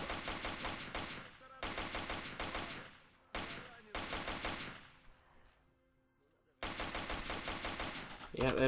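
Gunfire in the PC game S.T.A.L.K.E.R. Lost Alpha: loud bursts of rapid automatic fire in long strings, broken by short pauses and one longer silence before another burst.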